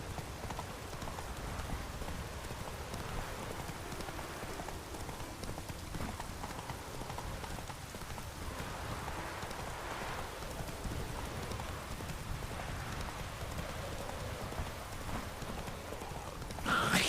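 Roach the horse in The Witcher 3 gallops in steady clip-clop hoofbeats under rain pattering on the ground, continuous at an even level throughout.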